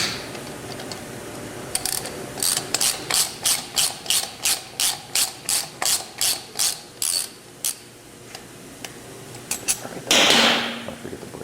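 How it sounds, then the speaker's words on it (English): Ratchet wrench clicking in a quick, steady series of about fifteen loud, close strokes while a brake rotor is removed during a Sumo-X Fury motorcycle install, then a pause and a brief scraping rush at the end. "The next step is to take off the brake rotor."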